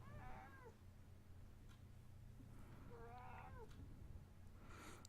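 A cat meows twice indoors, with clear, fairly close calls separated by a pause and a steady low hum underneath.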